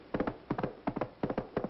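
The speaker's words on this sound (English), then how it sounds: "That's the gallop of the horse" Horse hooves gallop in a staged sound effect, repeated groups of three quick, crisp clip-clop beats in a steady driving rhythm, close and clear.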